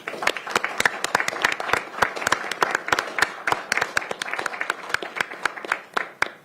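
A crowd at a Pierce County Council meeting claps in lively applause, many sharp hand claps overlapping at a brisk, uneven rhythm, fairly close and loud throughout.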